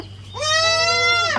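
A single loud, drawn-out goat bleat close by, rising and holding for about a second against a faint steady hum.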